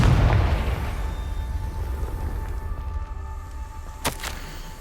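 Confringo blasting spell in Hogwarts Legacy erupting as a single deep boom at the start, trailing into a low rumbling decay, with a sharp crackling burst later amid a tonal game ambience.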